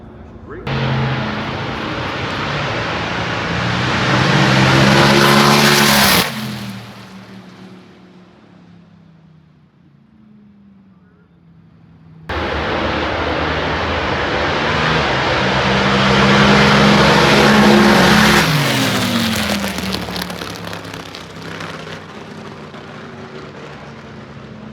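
A 197 cubic inch nitromethane-fueled Harley Davidson drag racing motor blasting past at a drag strip in two loud roaring runs, each building to a harsh peak and cutting off abruptly, with a quieter gap between them.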